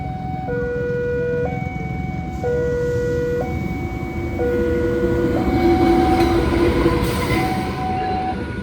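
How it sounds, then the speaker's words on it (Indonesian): The Wijaya Kusuma passenger train from Ketapang to Cilacap rumbles steadily into a station while a loud two-tone horn or signal alternates repeatedly over it; no one speaks. "persiapan masuk kereta api Wijaya Kusuma dari stasiun Ketapang tujuan akhir Cilacap"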